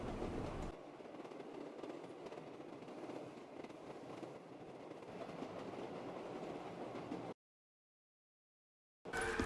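Train ride in the Call of Duty Shadows of Evil zombies game, travelling from the Footlight District to the Canal District: a steady rumbling rail roll with clacking wheels, loud and continuous, cutting to brief silence before resuming.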